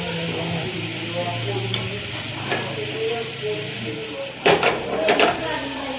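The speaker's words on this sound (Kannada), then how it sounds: "ಬಟರ್ ಪಾರ್ದು ಮೂಲು ಪನ್ನೀರ್ ಚೂರು ಫ್ರೈ ಬ್ರೌನ್ ಗೋಲ್ಡನ್ ಬ್ರೌನ್ ಬರ್ತದೆ ಮಟ್ಟ ಅಂತ ಫ್ರೈ ಮಾಡ್ತಂಗ" Paneer pieces frying in butter in a pan, an even close sizzle with a low hiss, a few sharp scraping stirs near the end and a faint hum underneath.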